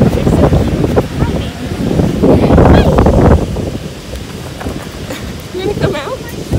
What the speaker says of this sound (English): It is currently so super windy.